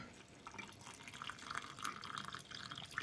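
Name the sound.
water being poured into gravy granules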